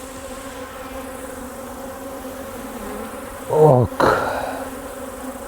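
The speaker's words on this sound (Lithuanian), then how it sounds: "bitės kažkaip šičia bazuojas" Honeybees hum in a steady, close drone around an opened hive during nest preparation for wintering bees, with a sharper burst of buzzing and a few handling knocks partway through.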